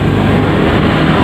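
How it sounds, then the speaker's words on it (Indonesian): Motorbikes and cars pass along a main road beside a roadside workshop, a loud, close, continuous rumble of traffic noise that fills the whole moment. "jadi ada suara backsound motor lewat atau mobil lewat ya"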